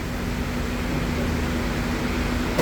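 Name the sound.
vacuum pump of a semi-automatic capsule filling machine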